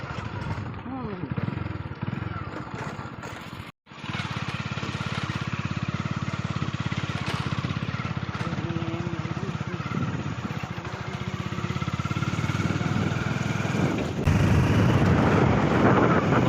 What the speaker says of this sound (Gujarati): mini tractor